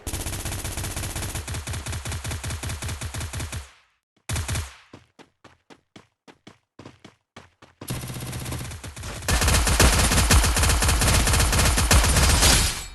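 Video game gunfire from Iron Cage: close, loud machine-gun bursts with rapid rhythmic shots, then a string of separate single shots, then heavy continuous firing.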